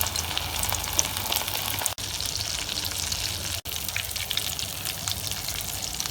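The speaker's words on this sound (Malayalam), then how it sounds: "അപ്പം മിക്സ് വരട്ടി എണ്ണയിലേക്ക് ഇടും." Egg pakoda batter frying in hot oil gives a dense, loud, continuous crackling sizzle that fills the whole stretch, broken only by two brief dropouts.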